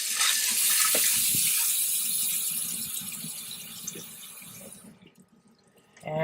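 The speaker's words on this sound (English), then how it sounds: "I'm going to cover it with water." Running tap water pouring into a pot, a loud rushing flow that gradually shifts and fades before stopping near the end.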